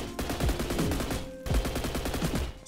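Rapid automatic gunfire from the Roblox game Energy Assault, two quick bursts of evenly spaced shots separated by a short gap, loud and close with no talking.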